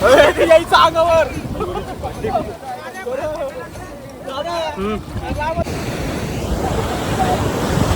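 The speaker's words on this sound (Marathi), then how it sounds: "कसं करणार काय लाट आली" Ocean waves crashing and washing up on Karde beach in Konkan, a loud surging roar close by, with people's voices and chatter over much of it.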